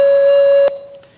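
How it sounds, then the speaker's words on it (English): A water-powered alarm clock sounds one loud, steady electronic tone for under a second before it cuts off sharply into a quiet room. "this is an alarm clock,"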